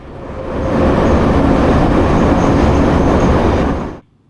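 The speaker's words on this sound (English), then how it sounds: "The old Soviet trains are still running, rough, loud, brakes that'll rattle your fillings" An old Soviet-era metro train runs loud and rough for about four seconds, a dense steady roar of wheels and rattling brakes that swells in quickly and then cuts off sharply near the end, with no voices.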